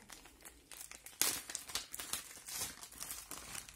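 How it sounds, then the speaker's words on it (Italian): Plastic packaging around a set of metallic markers crinkles and crumples as it is opened, quiet and close, in irregular bursts. "io ho preso questi pennarelli vediamo un po' li apriamo"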